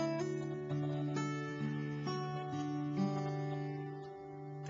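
Acoustic guitar fingerpicks the intro of a song, with individual plucked notes ringing over each other at a gentle, quiet level, close and alone without talk.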